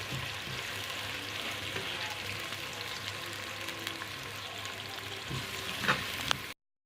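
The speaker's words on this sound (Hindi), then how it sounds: "प्याज को ब्राउन कर लेंगे। इसको अच्छी तरह ब्राउन करेंगे।" Onions browning in a pan, a steady dense sizzle and crackle of frying that runs continuously at close range with no talking, then cuts off abruptly.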